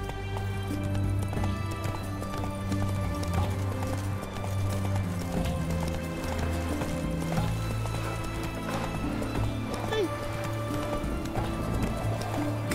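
Horse hoofbeats gallop in fast, steady clip-clop rhythm throughout a Witcher 3 Wild Hunt game scene, loud and close over a low droning background, with a faint voice urging the horse on.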